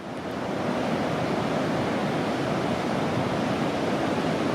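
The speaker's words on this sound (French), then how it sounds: "vous avez bien 2 minutes et demie de vagues encore, avec quelques-unes qui sont surfées" Ocean waves break on the surf at Lacanau beach in a constant, dense wash of rushing water with no distinct individual crashes, heard alone at a moderate level.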